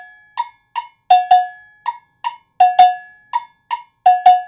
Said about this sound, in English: I'm gonna play a rhythm on the agogo